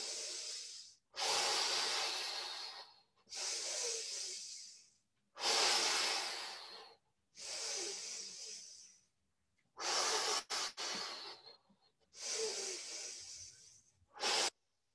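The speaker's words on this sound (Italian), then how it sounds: "Sentitevi respirare forte." Loud, forceful breaths during a dynamic Pilates breathing exercise, drawn in and pushed out in a steady counted rhythm of long hissing inhales and exhales with short pauses between, close and clear with no talk over them.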